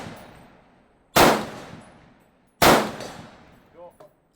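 An M1 Garand rifle fires two sharp, loud shots about a second and a half apart on an outdoor range. Each crack is followed by a long fading echo, and a brief metallic ping comes after the second shot.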